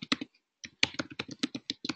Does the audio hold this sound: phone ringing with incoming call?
no